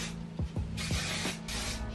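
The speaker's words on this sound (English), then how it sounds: "So I'm gonna give this a quick spray." Garnier Fructis Style Sleek and Shine hairspray gives a steady hissing spray from a can, close and continuous for about two seconds, with faint clicks along the way.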